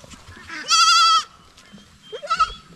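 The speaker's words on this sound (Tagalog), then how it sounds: "Nanghingi ng gatas yung kambing natin." Two goat bleats, a goat asking for milk, the first a long loud wavering cry, the second shorter and quieter after a pause, close by with faint background noise.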